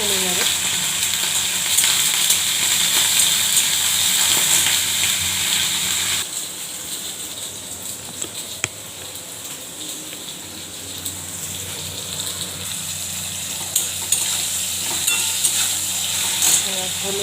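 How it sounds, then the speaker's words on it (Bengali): Okra and potatoes spattering in hot oil with cumin and mustard seeds, a loud, continuous sizzle with sharp crackles and pops that eases slightly partway through but keeps fizzing steadily. "ভেন্ডি আলুটা দিয়ে দিচ্ছি। বড্ড ছিটকাচ্ছে"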